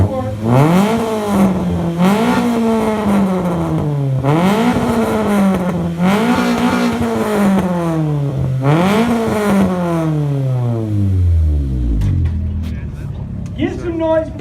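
A Nissan SR20 engine at a car meet rev battle revs hard again and again, its pitch climbing and falling in repeated loud surges before dropping away into crackles, with a voice heard faintly beneath it.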